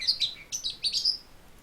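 A pet bird in a room gives a quick series of high, bright chirps and tweets, fairly close and clear over a quiet background.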